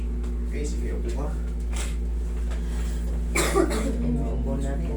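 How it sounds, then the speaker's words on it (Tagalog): A person coughs near the end in a short, harsh burst, heard over a steady low hum and quiet background voices in an indoor room. "Inuubo na rin."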